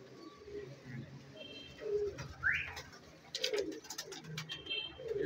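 Soft, low coos from a teddy pigeon repeat every second or so, close by, with a few brief chirps and light rustling in between.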